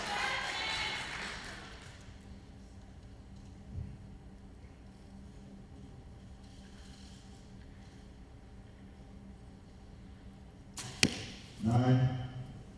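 A compound bow is shot at a junior women's team gold final, with a sharp release snap and arrow impact near the end, followed by a short burst of noise, with quiet murmured voices in the background.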